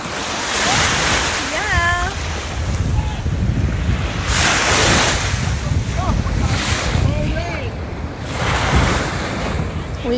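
Ocean surf and gusting wind at a beach, a steady broadband wash with surges of breaking waves and microphone wind rumble throughout, with faint voices now and then underneath.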